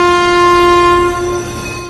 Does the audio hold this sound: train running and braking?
yes